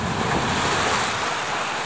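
Strong wind roars steadily with crashing surf beneath it and palm trees bending, a loud, continuous outdoor rush with no voices.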